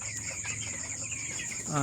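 A flock of about three hundred broiler chickens clucks steadily and close by inside a poultry shed, a continuous overlapping chatter of hen calls.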